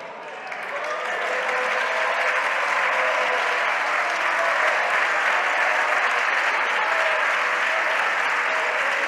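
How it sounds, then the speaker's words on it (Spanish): A large standing crowd gives Spanish Socialist Party leader Pedro Sánchez a sustained ovation, dense clapping that rises quickly and holds loud and even without a break. "con una ovación"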